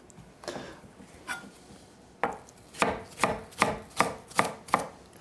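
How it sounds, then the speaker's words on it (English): An onion being cut with a knife while preparing a tilapia and spinach dish: a few soft cuts, then a steady run of about six sharp, evenly spaced chops, close and fairly loud. "I think we'll just take and cut the onion"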